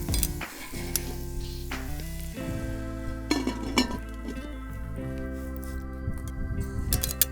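Onions and garlic sizzling in olive oil in a pan over an open fire, a soft, steady crackle with occasional utensil clinks and scrapes against the metal, fairly quiet and close.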